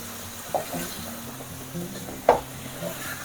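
Green chicken with mint frying in oil in a pan, a low steady sizzle with a few scraping stirs and light clinks of a spoon against the pan, close and without talk.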